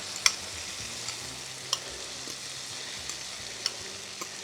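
Caramelized onions sizzle on a Blackstone griddle, a close, even hiss with a few sharp ticks and taps of a spatula scattered across it.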